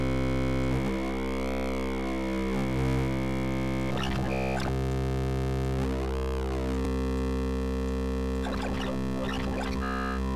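An overdriven wavetable in the WaveDuo synthesizer sustains a buzzy, harmonically dense drone while its timbre sweeps and warbles, with brief bursts of shifting, chirping tones cutting in twice.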